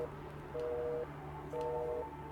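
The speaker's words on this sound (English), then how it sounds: "Terminal continues its unanswered ringing." In a video game, a terminal phone rings unanswered with two evenly spaced electronic ring tones, fairly faint over a low, steady background hum.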